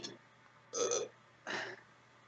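A couple of short, throaty belches come through a phone line during a tabletop role-playing session, each a distinct burst separated by quiet gaps.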